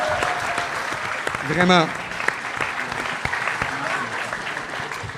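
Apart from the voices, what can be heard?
festival audience applauding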